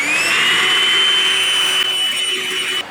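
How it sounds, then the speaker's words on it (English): A vacuum cleaner sucking up grout debris after tile work, with a steady loud whining hum running for a few seconds before it drops away near the end. "take a vacuum and just suck up that debris."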